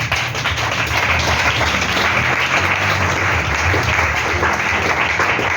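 Church congregation applauding during a worship service, a dense, steady wash of clapping that fills the whole stretch at close range with no pauses.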